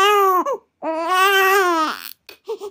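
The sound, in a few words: baby crying sound effect in a story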